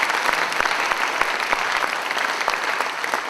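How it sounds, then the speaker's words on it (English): A lecture audience at a Gandhi memorial lecture gives a round of applause, a thick continuous patter of clapping with a few louder, distinct claps near the front. "they both deserve another round of applause"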